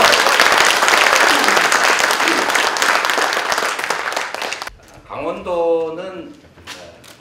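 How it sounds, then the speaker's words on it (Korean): A crowd claps loudly at a National Assembly forum on revising the Gangwon Special Act, dense applause fading after several seconds as a voice begins speaking. "박수 좀 부탁드립니다."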